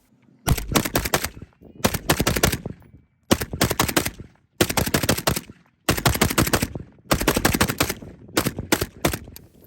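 Rapid mag dumps from the Thundercracker rifle at a night shoot: about eight loud, close bursts of fast automatic fire, each lasting around a second, separated by short silent gaps.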